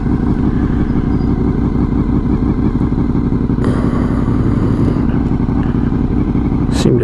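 A motorcycle turning around on a gravel road, its engine running steadily and close throughout with a constant low rumble and small shifts in load, no talking over it.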